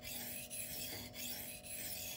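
Twosun TS264 folding knife with an M390 steel blade drawn across a sharpening stone, three steady rasping strokes in a row, close and fairly quiet.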